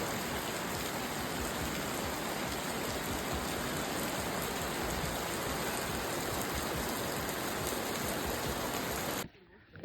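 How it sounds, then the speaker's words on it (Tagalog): Heavy rain pours down steadily while people wait for a cable car in Armenia, a loud, dense, unbroken hiss that stops abruptly near the end. "Yun na, inabot kami ng ulan."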